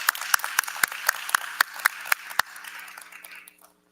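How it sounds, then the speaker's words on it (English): Audience applause at a school board of education meeting, a crowd clapping with sharp individual claps standing out for a few seconds before fading away to quiet. "Let's give her another applause."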